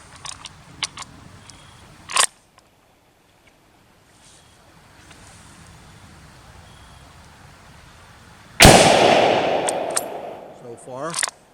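A Yugoslavian M48 Mauser rifle fires outdoors: an early loud sharp crack, then a second powerful blast much later that rings and decays with wind noise, with small clicks between.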